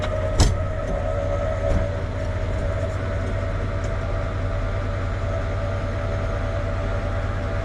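RV leveling jacks on a new camper retracting in manual mode, giving a steady, continuous mechanical motor drone with a couple of faint clicks near the start and no speech.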